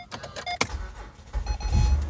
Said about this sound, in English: the car just started with my jump starter on it